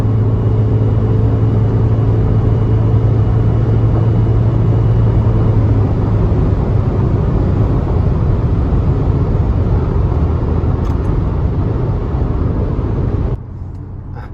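Engine of an Isuzu D-Max 3.0 pickup from 2020, set up for more horsepower, gives a loud, steady, close rumble while the truck drives, easing slightly near the end, with no talk.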